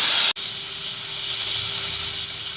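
Three tomatoes sautéing in oil in a pan for a brinjal kulambu, a loud steady hiss and sizzle running throughout with one brief dropout near the start.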